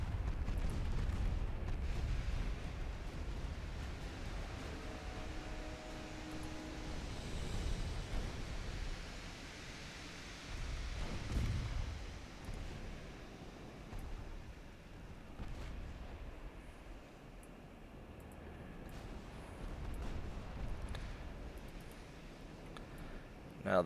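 Naval guns fire during a battleship engagement in the game Ultimate Admiral Dreadnoughts, with several deep, rumbling booms spaced apart over a constant wash of sea and ambient noise.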